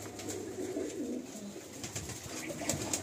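Soft cooing of Madrasi pigeons in a loft murmurs steadily at a low level, with faint rustling and brief bird sounds in the background.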